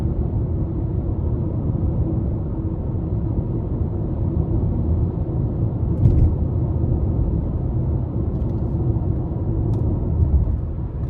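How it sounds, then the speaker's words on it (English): Interior of a 2024 Nissan Sentra SV Premium with a CVT on the road, heard as a steady low engine and road rumble with tire noise on alloy wheels, continuous and fairly loud, without speech. "even with the CVT, I just like the sounds that the vehicle makes. It's not too loud, it just drives normally."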